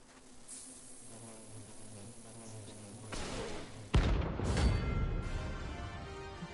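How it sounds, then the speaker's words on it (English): Bees in the Final Fantasy 16 game buzz in a low, faint drone that swells into a louder, nearer rush with sharp bursts of combat sounds. "I remember this, dumbass bees"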